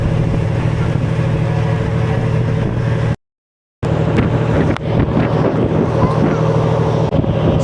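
A passenger boat heads out across the water toward Nainativu island off Jaffna. Its motor drones loud and close under heavy wind buffeting, broken by a brief total dropout partway through.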